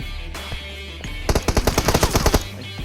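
Automatic gunfire in PUBG Mobile on the Sanhok map during a 4 vs 4 match: a rapid burst of about a dozen close, loud shots in quick succession, preceded by quieter game sounds.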